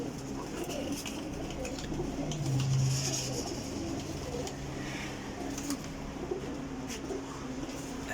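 Racing pigeons cooing and fluttering faintly at a pigeon release, with soft coos and a steady background hum, under quiet murmured talk.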